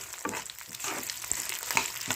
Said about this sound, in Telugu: ఇవి కొంచెం వేగాలండి, నిదానంగా వేయిస్తున్నాను.